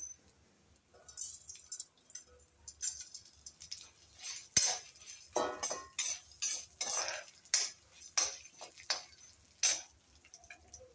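Urad dal and mustard seeds roast in a pan for a beetroot chutney, a utensil scraping and clinking against the metal in irregular bursts with a faint sizzle beneath, close and moderately loud.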